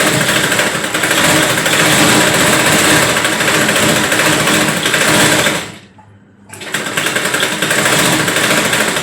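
A sewing machine stitching a small girl's frock runs in a fast, steady, close whir, stops briefly for a second, then starts up again at the same pace.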